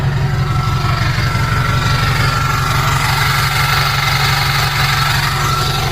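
A Ford Super Duty diesel pickup truck with a roughly 4-inch exhaust idles with a deep, steady throbbing rumble, close by and constant throughout, with no voices.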